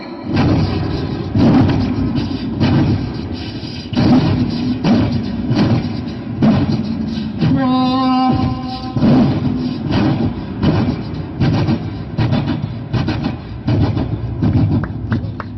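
On a comedy stage show, a voice mimics a passing train: rhythmic chugging bursts with a brief whistle-like tone in the middle, loud and close, then the chugging continues.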